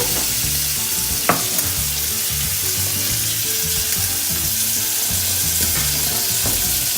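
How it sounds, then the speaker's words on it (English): Bacon and mushrooms fry in butter in a hot pan with a loud, continuous close sizzle, broken by an occasional sharp clink or scrape of a utensil, and no voices. "the pan's nice and hot, and then you can chuck the bacon in. Right now that's browning up a bit, you can chuck in the mushrooms."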